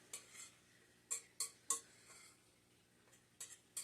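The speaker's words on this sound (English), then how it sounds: "I'm going to go ahead and mix up the dry ingredients first." A utensil stirs dry cracker ingredients in a bowl. It makes faint, sparse clinks and taps against the bowl, a few sharp knocks spaced irregularly over a quiet background.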